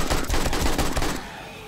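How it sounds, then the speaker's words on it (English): A turret in 7 Days to Die fires a rapid burst of loud, close automatic shots for about a second before the fire cuts off. "Come on, turret, shoot them."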